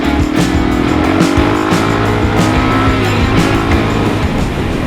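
A Suzuki DRZ400 400cc dirt bike engine runs steadily while being ridden, with a loud continuous drone and gradual rise in pitch, heard close and alone.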